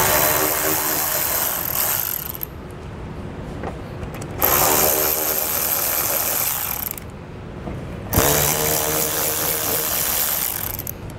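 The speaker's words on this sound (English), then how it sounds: "We're going to take a 10mm socket. We're going to loosen the nuts." Socket wrench loosening nuts while installing a Draw-Tite Max-Frame trailer hitch on a 2021 Chrysler Pacifica, three long bursts of rapid close ratchet clicking with short pauses between them, and no talking.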